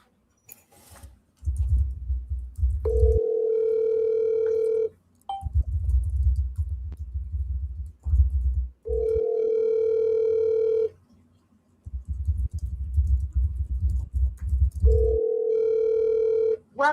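A telephone line plays a steady dial tone that repeats in a regular on-off cycle between short beeps while a call is dialed, with no voices heard.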